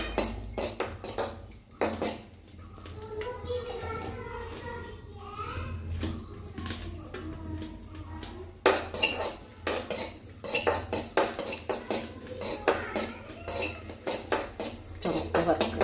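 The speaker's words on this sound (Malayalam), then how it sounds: "അപ്പോൾ നമ്മളിവിടെ അണ്ടിപ്പരിപ്പൊന്ന് വറുത്തെടുക്കണം." Cashew nuts fry in a pan while a metal spoon clatters and scrapes against it, nearby and steady with busy bursts, under a faint hiss and with brief stretches of quieter stirring.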